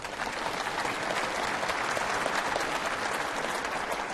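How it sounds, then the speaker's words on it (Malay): Applause from a seminar audience welcoming a panelist, the deputy Melaka police chief, at a forum on social media; dense, even clapping from many hands, fairly distant and soft, sustained throughout. "Kita berikan tepukan kepada Datuk."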